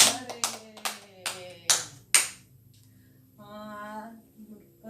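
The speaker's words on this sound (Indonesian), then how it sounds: "tepuk tangan" A group of mothers in a community nutrition class on breastfeeding and toddler health claps in about six distinct, evenly spaced bursts. A voice follows briefly in a quiet room.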